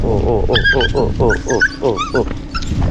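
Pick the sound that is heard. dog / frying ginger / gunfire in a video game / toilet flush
dog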